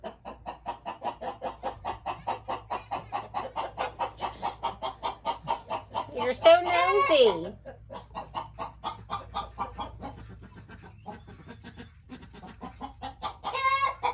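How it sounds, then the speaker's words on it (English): Hens cluck steadily in a barn during a goat's labour, a rhythmic stream of clucks with a louder squawking burst midway and another near the end, while a person speaks briefly. "We got the chicken midwives in the background."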